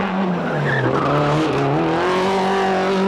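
Colin McRae's Subaru rally car passes close and loud, its engine note rising and falling through gear changes, with tyre squeal over a sustained roar that cuts off abruptly at the end.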